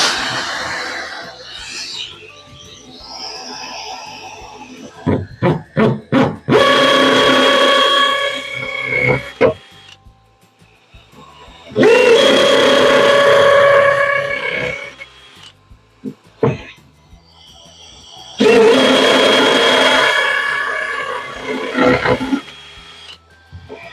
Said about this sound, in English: So I'm going to drill now.